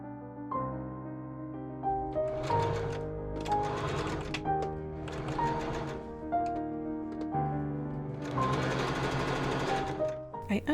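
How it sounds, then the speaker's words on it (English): A sewing machine stitching a seam through velvet and lining for a dress, running in several short bursts of rapid mechanical stitching with pauses between, heard under steady background music. "I pin and machine sew the front seam,"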